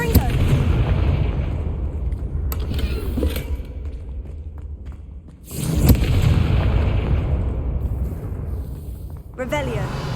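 Heavy booming blasts from the Confringo spell go off in the Hogwarts Legacy video game, two long rumbling explosions with a quieter lull between them. Game sounds and voices play underneath.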